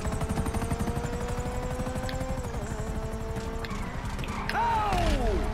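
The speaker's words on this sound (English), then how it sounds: "Another chopper." Helicopter in GTA 5, a steady rhythmic rotor chop throbbing throughout, loud and close, joined near the end by a swelling whine and crash-like noise.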